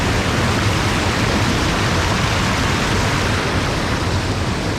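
Steady roar of a waterfall along a hiking trail, a dense, loud rushing wash that holds constant and close throughout with no other sounds.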